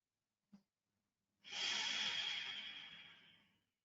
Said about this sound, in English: Can you try breathing in and out through your nose?